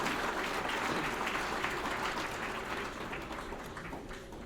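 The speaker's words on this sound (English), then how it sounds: "Let us give a big round of applause and thank him for his achievement." Audience applause at an awards ceremony honouring a lifetime achievement winner, a dense steady wash of many hands clapping that fills the whole stretch and thins slightly toward the end, recorded at low quality.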